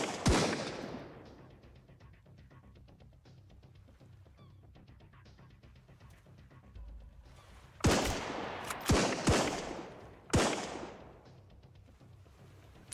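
Gunfire in the survival game Sunkenland: one sharp shot opens, then quiet follows, then a cluster of three or four loud reports with decaying tails.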